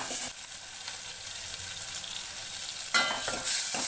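Tomatoes frying in a pan for ginger lemon rasam, a soft continuous sizzle with light stirring scrapes and a brief louder clatter near the end, no talking.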